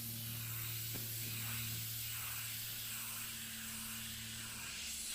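Airbrush spraying thin paint at 20 psi, a steady close hiss running continuously with a low compressor hum underneath.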